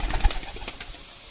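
A single male Pakistani-breed pigeon coos softly at close range, a few low, brief throaty notes that fade quickly into quiet.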